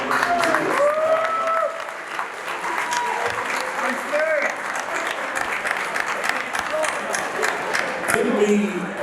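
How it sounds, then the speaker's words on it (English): A crowd at an anniversary induction event for a hip-hop figure gives sustained applause with cheering and whoops. The dense clapping continues for several seconds, and voices shout over it throughout. "Give a round of applause for Dada Rock."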